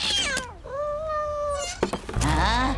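Cartoon cat meowing in a drawn-out, wavering wail, with a shorter meow at the start and another rising yowl at the end, loud and close, with a brief thump in between.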